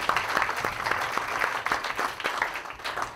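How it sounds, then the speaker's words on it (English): An audience claps in a dense, sustained round of applause, many hands overlapping at moderate volume. "give her a round of applause"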